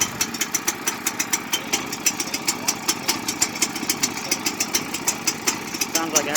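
A small trencher engine fires and runs, with rapid regular popping beats at a steady idle, fairly close and loud, and a person's voice briefly over it.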